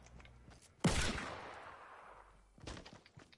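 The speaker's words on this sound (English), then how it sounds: "I'm getting shot at." Gunfire in a video game, one sudden loud blast followed by a long rumbling tail, then a second burst of shots near the end, no talk over it.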